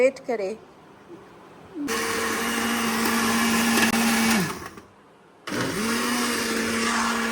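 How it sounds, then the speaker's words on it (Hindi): A kitchen grinder blends a breakfast mixture in loud, close bursts of whirring motor noise, stopping between runs. Someone talks briefly before the grinding starts. "अब इसको हम ग्राइंड करेंगे।"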